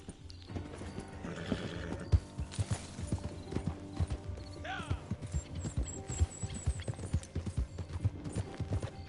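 A horse ridden in a video game trots with quick, repeated clip-clop hoofbeats. A brief whinny and other faint game sounds sit in the background.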